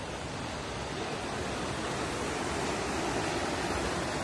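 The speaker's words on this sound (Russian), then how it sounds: "Вот это верхний Имеретинский водопад." The upper Imeretinsky waterfall in the Caucasus mountains of Karachay-Cherkessia roars as a steady, broad rush of falling water, continuous and unbroken throughout, with no voices.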